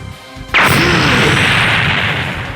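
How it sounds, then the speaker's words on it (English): An explosion blasts through a strange city under a red sun, a sudden loud boom followed by a sustained roaring rumble that stays heavy and dense for about two seconds. "explosions are seen rushing all down the cityscape in a straight line"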